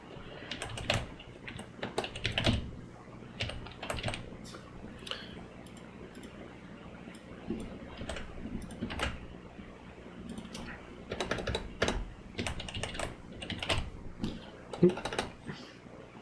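Rapid bursts of keystrokes on a computer keyboard, close and fairly quiet, come in uneven clusters with short pauses between them while attack names are typed in.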